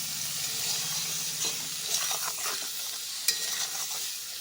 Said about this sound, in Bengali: এবার নেড়ে চেড়ে বেশ ভালো করে সবজিগুলোর সঙ্গে চিকেন সসেসটাকে ভেজে নিতে হবে।